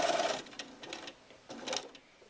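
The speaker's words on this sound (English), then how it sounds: "We're going to go ahead and stitch right up to where the clip was made." A Bernina sewing machine fitted with a cording and piping foot stitches along piping in quick bursts, a close rapid mechanical whir that starts, pauses and resumes several times with no talking.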